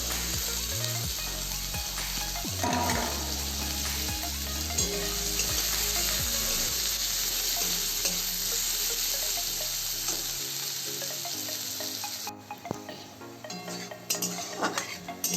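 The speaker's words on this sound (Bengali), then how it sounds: "পেঁয়াজটা আমি লাল করে ভেজে নেব।" Finely chopped onion fries in hot oil with a loud, dense sizzle. Metal utensils clatter and scrape against the pan near the start, then the hiss settles into a steady crackle heard up close.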